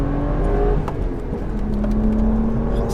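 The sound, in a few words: BMW 1M Coupé engine revving at full throttle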